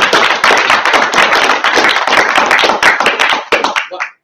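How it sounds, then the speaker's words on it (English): Enthusiastic applause for James at a money-making business meeting: dense, loud, continuous clapping from a group that holds steady, then thins into a few last claps and fades out. "So another round of applause for James."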